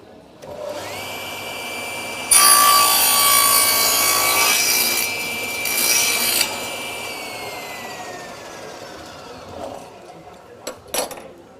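Table saw blade cutting through wood guided by a jig, a loud sustained high whine with the saw motor running before and after, the cut lasting several seconds before the blade spins down, a few sharp knocks at the end.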